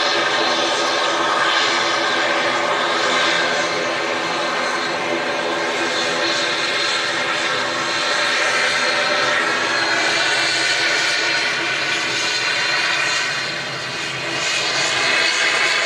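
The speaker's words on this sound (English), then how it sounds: "Just in front of us here, in from Aberdeen, Logan Air ATR 72." A Loganair ATR 72 turboprop airliner arriving at Manchester Airport from Aberdeen, its broad propeller and engine roar loud and steady throughout, dipping briefly near the end before swelling again.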